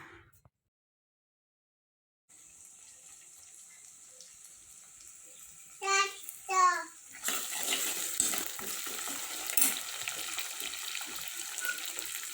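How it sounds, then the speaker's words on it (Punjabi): Tempering (tadka) for a potato and pea curry frying in a home kitchen: a steady bright sizzle starts after a quiet opening, two louder spitting bursts follow, then a fuller crackling sizzle with stirring continues to the end. "ਤੜਕਾ ਲਾ ਰਹੇ ਆਪਾਂ ਆਲੂ ਮਟਰਾਂ ਨੂੰ"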